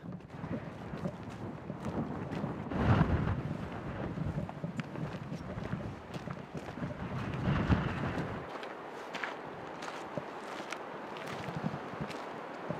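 Wind gusting across an exposed high hilltop above islands, a steady broad roar that swells in a couple of louder gusts before easing, with faint rustling and footstep-like scuffs close by.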